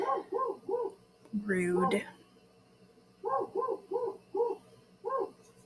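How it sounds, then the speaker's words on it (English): A pet dog barks in short bursts of three or four sharp woofs, close and fairly loud, with one longer burst of noisy yelping or howling in the middle; a voice speaks a single brief word between barks. "Sorry about the dog."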